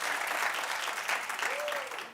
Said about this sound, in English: Clap if you have.